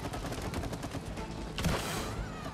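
Rapid bursts of gunfire from the co-op video game It Takes Two, fairly quiet, crackling in quick succession for a couple of seconds with a brief louder swell midway.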